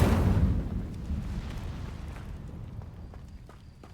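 Incendio fire spell cast in Hogwarts Legacy, a loud burst of flame erupting at once and then a rumbling roar that slowly fades, with small crackling pops toward the end.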